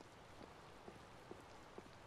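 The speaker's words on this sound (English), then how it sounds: "I believe the ongoing rain and wind are being caused by a Blastia." Steady rain falls in the Tales of Vesperia video game, a faint, even patter with a few soft drops tapping near the front. Nothing else is heard under it.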